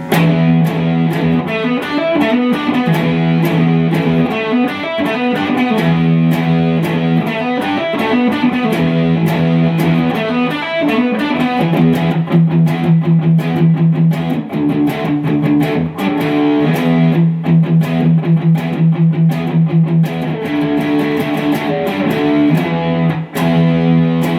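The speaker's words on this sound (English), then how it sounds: "So, shall I take you through some distortion tones?" Heavily distorted electric guitar, a Jazzmaster with single-coil pickups, plays a continuous riff with sustained chords and steady rhythm, loud and dense throughout.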